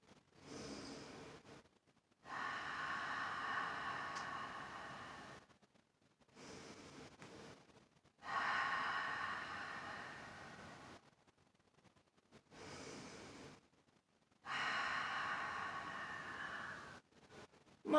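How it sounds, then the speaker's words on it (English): Three slow, deep breaths taken during a forward-bending mindfulness stretch with the head resting on the ground, each long breathy inhale and exhale separated by brief pauses, close and soft. "take 3 deep breaths with me"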